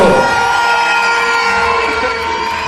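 A crowd at the women's World Cup final of the JIF World Competitions cheers and whoops loudly for a French team competitor, with continuous dense noise and scattered shouts.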